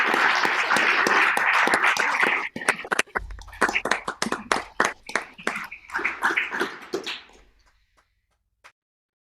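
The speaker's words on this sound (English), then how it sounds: "And so I applaud you and all of us as well." An audience applauds, a dense burst of clapping that thins into scattered claps and fades out to near silence.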